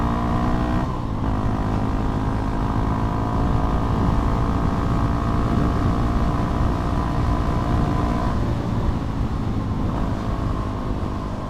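A Yamaha WR 250 supermoto motorcycle engine drones steadily and loudly while riding, a continuous close-up hum with slight shifts in pitch and no voices.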